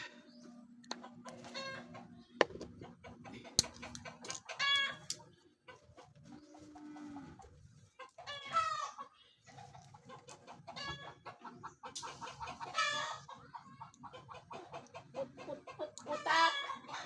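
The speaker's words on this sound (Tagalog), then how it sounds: "Sisiput-put-putakan yung mga manok." Chickens cluck in a loose series of calls, some near and some farther off, with quiet gaps between the bursts.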